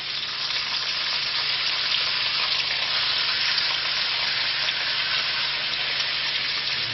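Elk liver and onions fry in a pan with a dense, even sizzle that holds steady and close for the whole stretch, unbroken by stirring accents or voices.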